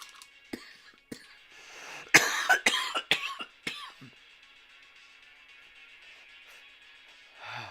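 A burst of several harsh coughs in quick succession, close and loud, then a quiet stretch with a faint throat sound at the end.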